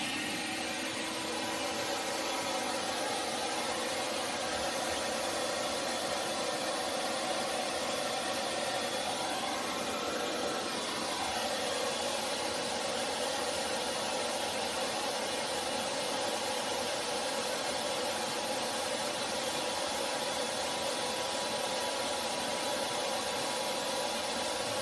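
Electrolux vacuum cleaner running continuously with its hose stretched out, a steady airy whine and rushing hiss, fairly faint and unbroken throughout.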